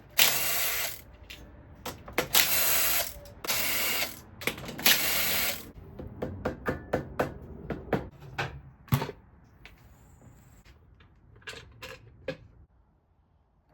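A hand ratchet clicks in quick bursts while loosening the ten 8mm bolts on a Honda CRF110 clutch cover, with rapid pawl ticks, pauses between bolts and a few sharper metallic clacks, close and clear with no talk.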